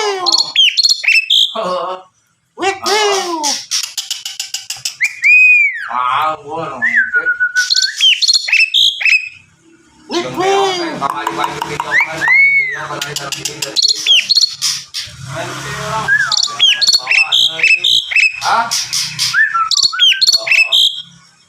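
A jalak sungko starling calls loudly and close with varied whistles, squawks and chattering phrases in long bursts separated by brief pauses.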